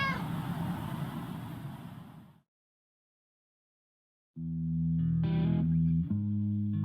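A cat meows in the video game Under Maintenance, a clear, slightly processed call that repeats in short bursts after a pause, alone without talk.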